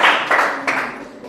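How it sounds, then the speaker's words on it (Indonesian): Applause from a classroom group during an academic coaching supervision session, a dense burst of claps that swells and fades in a few quick waves, close and fairly loud, with no talk over it. "kita beri tepuk tangan yang meriah"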